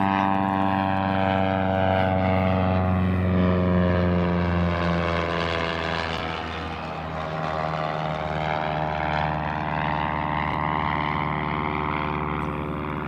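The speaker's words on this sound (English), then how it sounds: "Of course, the plane was flying right past me." A propeller airplane flies past close overhead on a calm evening by still water, its steady loud engine drone and harmonic whine swelling and shifting in pitch as it passes, with no talking.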